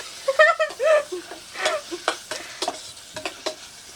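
Onions frying in a pan are stirred with a spoon, with short scraping strokes over a soft sizzle, close and fairly quiet. A brief voice-like sound comes near the start.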